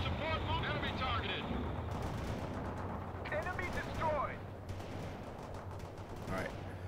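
Fifty-caliber machine gun fire in the World in Conflict video game, sustained rattling bursts and heavy battle rumble beneath brief radio-style voice chatter, fairly loud and continuous.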